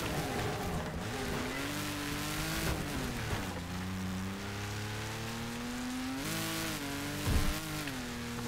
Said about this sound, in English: Speed boost. Nitrous.